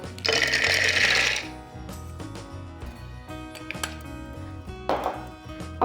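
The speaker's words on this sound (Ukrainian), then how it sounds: "Зараз я подрібнюю в блендері кешю." A blender whirs in short bursts while chopping cashews, pieces of cashew rattling and ticking against the jar between pulses, close and fairly loud.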